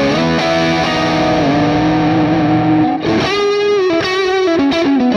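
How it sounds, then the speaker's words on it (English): Electric guitar run through a Klon-style overdrive model on a Quad Cortex, giving a mildly dirty, driven tone with sustained chords followed by a few picked, ringing strums, loud and close with no talking. "This model might be slightly dirtier than the Klons I've played."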